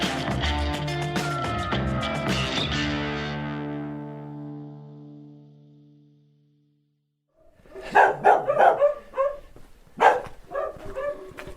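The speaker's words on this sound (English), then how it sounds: "I think I've triggered every dog in the village that's left." Village dogs in rural Portugal bark in a loud, distorted burst of overlapping yelps that fades into silence, then several sharp barks return from nearby, irregular and echoing.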